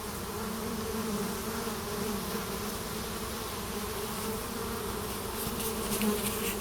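A dense, steady buzz of many honeybees at a hive entrance, close and continuous, with individual bees droning past now and then toward the end and no voices.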